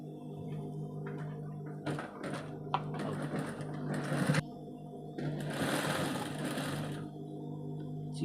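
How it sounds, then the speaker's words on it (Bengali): Sewing machine running a single-fold hem along the bottom of a round-hem Chinese shirt, a steady close whirr with brief pauses and bursts of stitching, no talk. "আসুন এবার নিচে সেলাই করি।"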